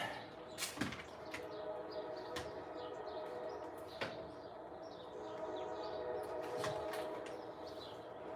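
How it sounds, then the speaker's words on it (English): A train passes by with a steady low rumble, while sharp metallic clanks and knocks break through at irregular moments. The sound is moderately distant and heard alone. "Another train passing by, such is life here."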